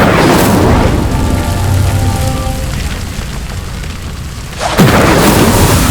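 Casting the Incendio spell in Hogwarts Legacy, a fire burst whooshes and roars as a pyre ignites. The flames crackle steadily, then a second sharp, loud burst flares up near the end.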